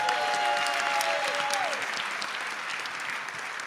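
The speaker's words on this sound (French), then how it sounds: "On acclame le Seigneur pour cela." A church congregation at an evangelisation service applauds in a dense, sustained wash of clapping that fades slightly toward the end, while sustained organ or keyboard tones briefly sound over it.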